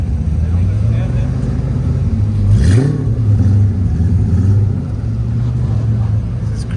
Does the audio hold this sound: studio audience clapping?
no